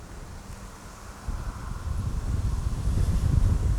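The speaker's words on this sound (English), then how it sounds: "Okay, it's fairly windy." Wind blows hard across the microphone by a river, making a steady broadband rush. It swells louder and gustier after about a second.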